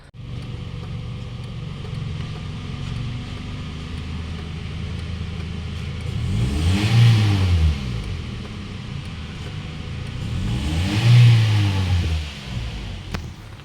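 A Toyota Vios engine running steadily after a fuel filter replacement, a low continuous rumble that swells twice in brief revs.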